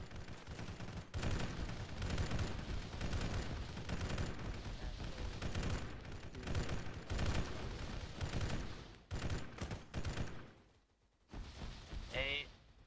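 Dense gunfire in Arma 3 sounds as sustained bursts of rifle and machine-gun shots, loud and continuous, with a brief lull near the end before more shots. Radio-style voices talk over the shooting.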